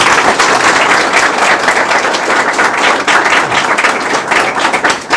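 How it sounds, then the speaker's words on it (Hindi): Audience applause welcomes a guest, Miss Janvi, onto a stage: a dense, steady wash of many hands clapping, loud and sustained throughout. "मिस जानवी का स्वागत कीजिए ताली में।"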